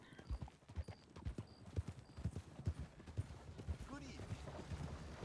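Horse hooves clip-clop in a steady trotting rhythm while riding in a Western video game, moderately close, with a brief whinny and some voices over the hoofbeats.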